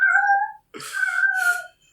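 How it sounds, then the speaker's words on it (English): A cat meows twice in close succession, loud and near, each cry drawn out and tonal, with a brief silence between them and no talk. "The cat doesn't like that."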